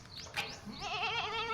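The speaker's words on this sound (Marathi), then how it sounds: "बकरी" Goat bleating near the listener, a wavering nasal cry that trembles for about a second, with faint rustling before it.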